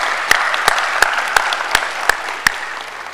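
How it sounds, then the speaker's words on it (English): At a medical school white coat ceremony, an audience claps for family and friends: a close, moderately loud patter of clapping punctuated by several sharp, regularly spaced louder claps from a single nearby pair of hands. "Would you recognize them today with your applause?"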